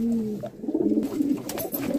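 Pigeons coo steadily in low, throaty rolling calls close by in a loft, with soft flutters and clicks over the continuous murmur; no one speaks.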